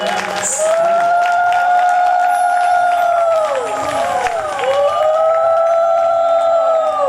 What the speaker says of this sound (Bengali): যতন বাবা মামনির জন্য একটা জোরে করতালি হয়ে যাক।